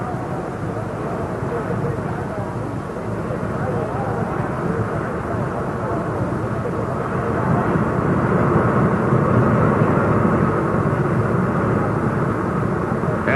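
A jet dragster's afterburners roar before a night drag race, a steady, loud, broad jet rumble that swells slightly louder partway through, with an announcer speaking over it.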